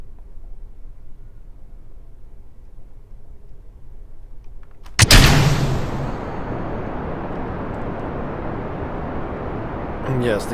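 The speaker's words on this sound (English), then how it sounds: "these SRBs do have enough juice to get us going up" Solid rocket boosters igniting at full thrust in Kerbal Space Program: quiet hum, then a sudden loud blast that settles into a steady, roaring rumble of engines.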